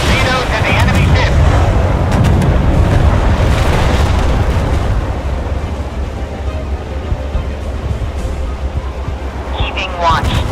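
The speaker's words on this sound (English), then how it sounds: "Torpedoes in the enemy ship." Torpedoes exploding against an enemy ship in a naval video game, a loud sustained roar of blasts and churning water that fades slightly, dense and close, with brief game voice chatter underneath.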